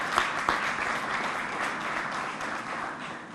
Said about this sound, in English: While they come, by all means, give them a round of applause.